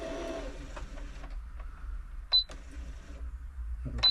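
A Brother Super Ace III sewing machine on the service bench makes a short run of mechanical clatter, with a sharp high beep twice and some low hum in between.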